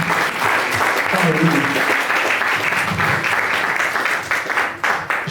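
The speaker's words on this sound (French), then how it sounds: "Est-ce qu'on peut applaudir notre Seigneur ce matin?" Congregation clapping steadily through a Christmas church service, a dense sustained applause filling the room with a few voices and tones mixed in underneath.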